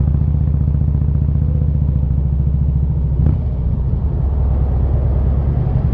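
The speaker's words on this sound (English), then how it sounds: "it's got a Vans and Hines on it, straight pipes. That thing's gonna be loud" Harley-Davidson Street Glide fitted with Vance & Hines straight pipes, a loud, close, deep, lumpy rumble with rapid uneven pulsing and a brief sharp clack partway through.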